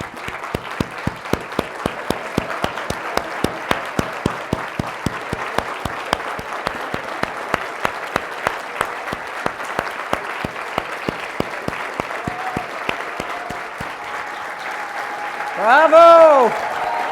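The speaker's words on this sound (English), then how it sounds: "I now want the honorees to all stand and receive a round of applause." Sustained audience applause for honorees at a gala ceremony, loud, dense, steady rhythmic clapping that fades near the end, followed by a brief tonal sound.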